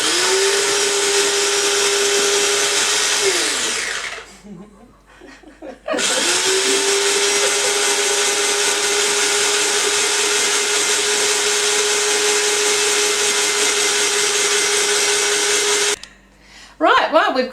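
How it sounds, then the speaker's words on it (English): Electric food processor grater shredding carrots for a ferment: a loud steady motor whine runs about four seconds, stops, then runs again for ten seconds before cutting off, with brief rattling in the pauses. "So Lisa, when you're ready, start grating those carrots"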